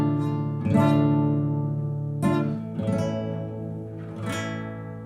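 A Handel suite movement opens a live album, heard as three sustained, harmonically rich chords that swell and fade, each new chord entering after a pause.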